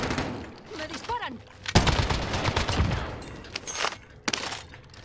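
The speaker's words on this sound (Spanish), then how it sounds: "Me disparan." Gunfire in the Call of Duty Warzone video game, with bursts of shots crackling in and out over busy game noise and a rattling firefight, loud and close in places, under a faint voice.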